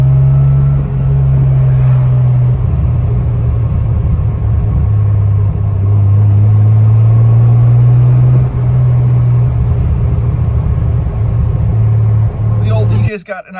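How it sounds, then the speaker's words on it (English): A Jeep TJ idles with a steady low burble through a Vibrant Street Power muffler, loud and close for most of the clip before it cuts off near the end. "now that I got this vibrant street power muffler on this thing and opened it up a little bit, it's got a nice little burble to it too"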